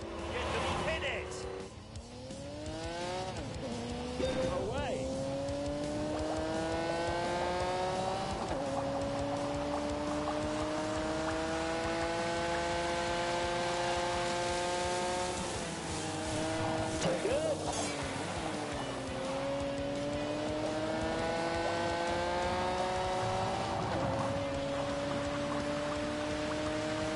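A car engine at full throttle on The Grand Tour, its steady high-pitched roar rising and falling through gear changes and held flat out for a long stretch, loud and close with faint background noise.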